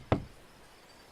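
A single sharp knock on a front door, one close, solid rap that fades quickly into quiet room tone, with no voices.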